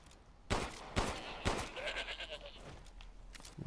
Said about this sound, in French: Il est où le deuxième mouton là?